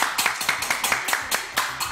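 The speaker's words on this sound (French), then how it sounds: "Jean-Paul Morgan, je vous demande de l'applaudir très très fort." A television studio audience claps in a quick, even rhythm, with sharp individual claps close together rather than a broad roar, steady for a couple of seconds.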